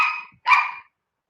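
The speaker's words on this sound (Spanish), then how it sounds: "Tengo el perro." A dog gives two short, sharp barks close by, the second slightly louder, then silence.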